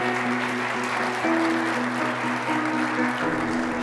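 Audience applause for speaker Seth Price at a NAGLREP real estate conference in Palm Springs, a steady dense clapping that holds for nearly four seconds, with a low hum underneath.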